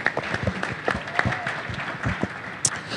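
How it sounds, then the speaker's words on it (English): An audience at an entrepreneurs panel session applauds the speakers, a steady crowd clapping with a few sharper claps standing out and faint voices mixed in. "Please, a round of applause for our speakers."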